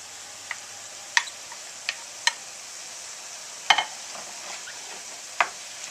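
Beef and spring onions stirred in a pan for a Tibetan meat and cabbage dish: a quiet, steady sizzle with a handful of sharp utensil clicks and scrapes spaced irregularly against the pan, close and alone.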